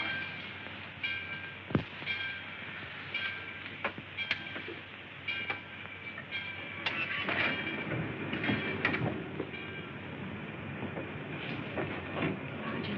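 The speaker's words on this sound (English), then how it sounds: "the train's moving" Passenger train in motion in a 1941 film scene, a steady rolling rumble with irregular clicks and clanks from the wagons, moderately loud and continuous with no voices.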